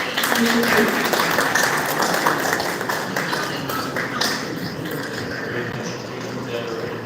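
Meeting audience claps warmly for an arriving guest, a broad wash of applause that starts strong and slowly thins, with some background murmur mixed in.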